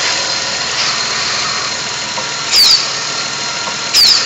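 A 1998 Grand Caravan 3.3L engine idles with a steady mid-pitched hum, broken by two brief, sharp clicks near the end of the clip.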